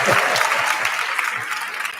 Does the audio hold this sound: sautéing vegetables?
no